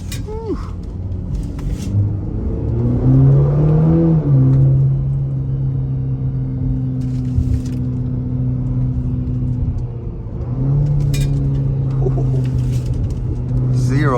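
A 2024 Cadillac CT4-V sedan accelerating through the gears on a test drive, its engine a loud, steady rumble that climbs in pitch, drops briefly at a shift, then pulls again, with a few quiet clicks and no talk.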